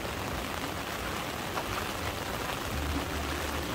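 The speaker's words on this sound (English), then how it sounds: "now it's friggin' raining so much" Heavy rain pours down at a scenic viewpoint on Koh Samui, a dense, even hiss of drops on hard surfaces that stays loud and steady throughout, with no voices.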